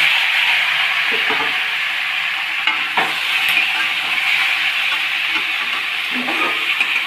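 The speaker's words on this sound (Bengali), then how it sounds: "এখন রসুন, হলুদ আর এই কোটানো শুকনো লঙ্কাটা ভালো করে আমরা ভেজে নেব" Garlic, turmeric and chopped dried red chilli fry in a pan with a loud, steady sizzle that runs throughout, broken by a few soft stirring scrapes.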